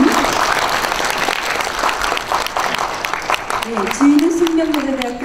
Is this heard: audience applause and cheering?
yes